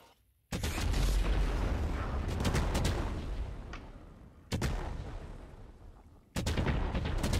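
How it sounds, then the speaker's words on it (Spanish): Fireworks blowing up a farm in the game Fireworks Mania, a loud roaring blast after brief quiet, followed by two more heavy explosive bursts that each decay into rumble. "Ah, explotó la granja"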